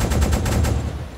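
A U-boat deck cannon in the game UBOAT fires a quick burst of loud, closely spaced shots that trail off at the end.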